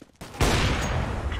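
Dense burst of gunfire in a first-person shooter match round, a brief sharp volley erupting after a quiet moment and continuing loud and close for about a second.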